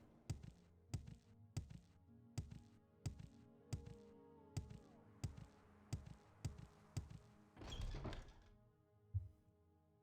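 Items dropped onto the floor in the video game Morrowind: a steady run of about a dozen soft, evenly spaced thunks, each one short and close, followed by a brief louder rustling burst and one final thud.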